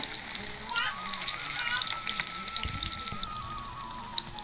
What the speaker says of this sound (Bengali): দেখো বন্ধুরা আমি দুবারে পনিরটা ভেজে নিচ্ছি